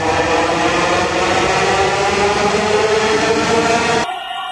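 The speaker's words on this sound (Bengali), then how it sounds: "স্টেশন ফাঁকা হয়ে গেছে, মাত্র ট্রেন গেছে" A Dhaka metro rail train runs through a station with a loud, continuous rolling rumble and hiss that cuts off abruptly near the end.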